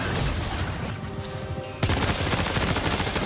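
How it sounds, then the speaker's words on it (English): Rapid gunfire in the video game Death Stranding 2 while shooting at a giant mecha kaiju: dense overlapping bursts, a short lull, then a loud, continuous barrage of automatic fire. "Now let's just keep shooting this piece."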